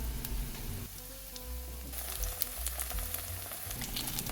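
Korean green onion pancake batter sizzles in an oiled pan over medium heat, a soft steady frying crackle with faint clinks and shifts of the pan, close by and without speech.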